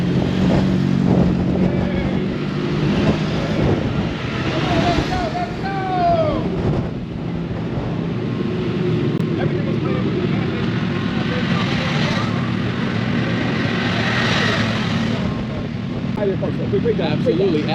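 A group of Can-Am vehicles rides out on a Jersey Shore trip in Atlantic City, a loud steady engine roar with passing whines and wind buffeting the microphone, with people talking over it.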